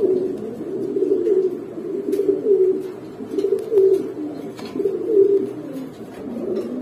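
Racing pigeons coo in soft, low, rolling murmurs that overlap continuously, close by and steady, with a few faint clicks and flutters in the background.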